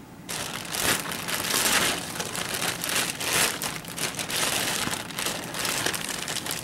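Close, continuous crinkling and rustling of the thin plastic bag a mask came in, with sharper crackles now and then as it is handled.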